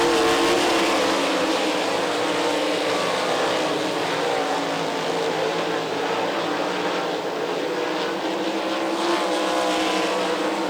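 Sprint cars racing in a heat race at Lee County, engines roaring continuously and loudly as the pack runs around the track, a steady dense engine drone throughout.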